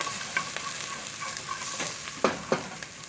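Onions sautéing in olive oil over low heat, a soft steady sizzle with a few sharp clicks of a utensil stirring the pan, no voices.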